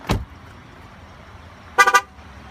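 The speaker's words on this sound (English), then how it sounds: "Horn will sound" A 2015 Buick LaCrosse car horn gives a quick triple honk, loud and close, following a short thump at the start over a quiet background.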